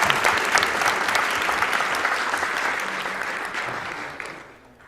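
Audience clapping at a Super Mario World Kaizo gaming event, a dense burst of many hands applauding nearby that holds steady and then fades out near the end.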